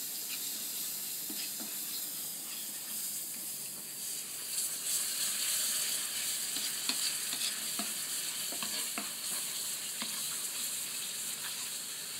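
Panang sauce cooks in a pan while being stirred, giving a continuous soft sizzle and hiss with occasional quiet scrapes of the spoon, steady and moderately close.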